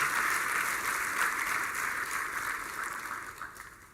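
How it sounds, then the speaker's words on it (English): Audience applause fills a plenary session hall at the AfCFTA Digital Trade Forum 2025 in Zambia, a dense, sustained clapping that gradually tapers off toward the end. "Another round of applause for the SJ."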